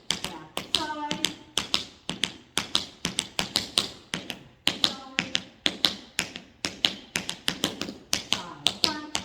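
Tap shoes strike a hard floor in a level-two warm-up run of side and back steps, giving crisp, close metallic clicks in a brisk, steady, repeating pattern for the whole stretch.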